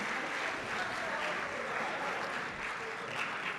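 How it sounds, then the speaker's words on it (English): An audience at an awards ceremony gives a steady round of applause, dense, continuous clapping from a crowd that fills the whole stretch evenly without a break. "Give them a round of applause for everything that they've done for you."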